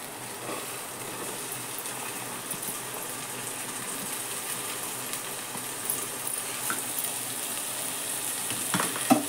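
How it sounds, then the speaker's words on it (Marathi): Onion and bell pepper sautéing for pav bhaji in a pressure cooker, a steady close sizzle and crackle running the whole time with a few faint clinks of a stirring spoon near the end. "कांदा जरा थोडासा परतून घेतला की मग त्यात सिमला मिरची आणि बाकीचं साहित्य एक एक करून टाकते मी"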